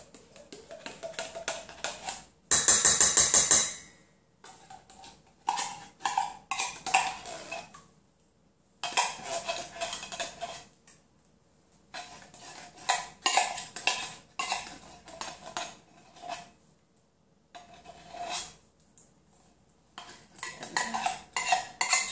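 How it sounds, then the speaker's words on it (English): A spoon scrapes and clanks against a can of cream of mushroom soup in repeated bursts separated by short pauses, close and fairly loud, with no talking. "probably need your spoon for that one, but goes in with everything else"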